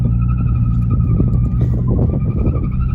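A Nissan 350Z engine revs under throttle while the car turns, a steady close engine drone with strong low harmonics and a faint tire-squeal edge running through the whole span.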